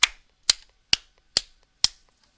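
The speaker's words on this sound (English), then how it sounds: "again I'll clap my hands" Five sharp hand claps sound alone in a quiet room at a steady rhythm of about two per second, each crisp and close with a short decay.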